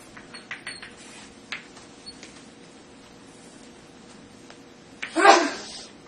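A single short, sharp sneeze bursts out near the end after a few seconds of quiet room noise with faint clicks.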